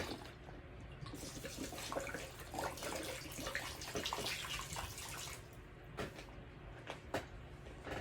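Water is poured into a container, a continuous splashing and trickling stream that eases off near the end into a few separate drips and small splashes, quiet and close.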